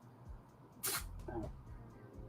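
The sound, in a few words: cat sneezing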